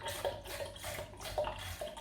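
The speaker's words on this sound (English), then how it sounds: "So this electrolysis water very simply goes into the drum, which is at the bottom." Electrolysis water from a tap runs into a drum, a continuous splashing pour with small gurgles and drips, close and moderately quiet.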